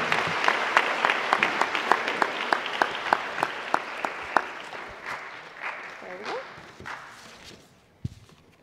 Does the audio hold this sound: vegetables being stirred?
no